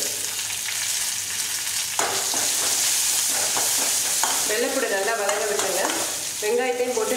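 Asafoetida, curry leaves and garlic fry in hot oil for a bitter gourd tamarind curry, a close steady sizzle that grows into brisk crackling and spattering pops near the end, with stirring and no talk.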